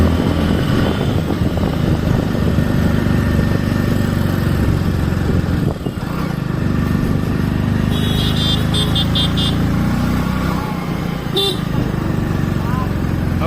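A vehicle engine labours up a steep, rough road near Raigad fort in the Konkan, a loud, steady drone filling the whole stretch, with brief higher tones like a horn midway.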